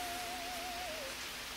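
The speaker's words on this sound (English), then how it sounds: "It's raining pretty hard." Steady, dense hiss of heavy rain pouring continuously, fairly loud and close, with a faint tonal hum running underneath.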